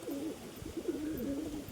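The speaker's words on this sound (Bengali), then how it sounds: "এটা আন্ধ্রা পায়রা" An Andhra pigeon, a spotted female, coos in low, rolling, repeated phrases close by, the burbling calls running steadily through the moment.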